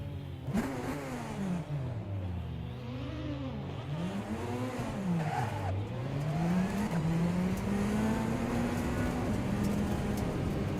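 A race car engine in the rFactor 2 sim at Sebring starts and revs, its pitch sweeping up and down through several throttle blips before settling into a steady rising drone, loud and continuous with no talk.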